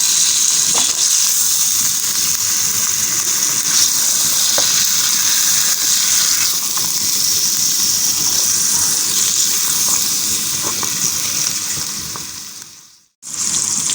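Mutton pieces fry in a pan with spices for mutton korma or karahi, a loud, dense, continuous sizzle with stirring scrapes throughout, ending in a sudden brief drop to silence.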